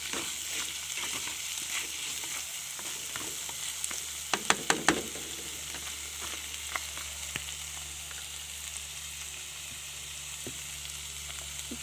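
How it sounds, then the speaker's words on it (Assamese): Fermented bamboo shoot (khorisa tenga) sizzling quietly in a pan, with a run of sharp utensil clicks and scrapes from stirring midway before the frying settles back to a low hiss. "অকণমান ভাজিম।"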